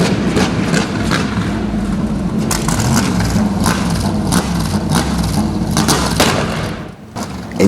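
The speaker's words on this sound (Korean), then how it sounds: "엔진 소리가 심상치 않은 게 뭔가 문제가 있는 것 같습니다." Racing car returned to the pit during practice, its engine running rough at close range: a loud, low, uneven idle with irregular thumps and bursts, briefly dropping away near the end before catching again.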